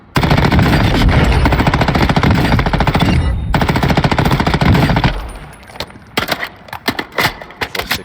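A battle rifle in a video game empties a full 60-round magazine in a long, loud, rapid burst of automatic fire, with a brief gap midway and scattered final shots as it trails off.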